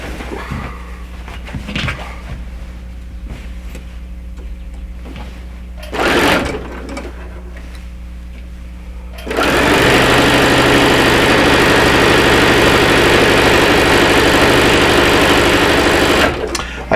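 A sewing machine stitches quilt borders, first a few short bursts and handling noises, then a loud, steady run of whirring stitching for about seven seconds before stopping.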